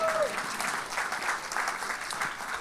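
Comedy club audience applause at the Laugh Factory, a dense, even wash of many hands clapping at moderate volume, with a brief vocal sound at the very start.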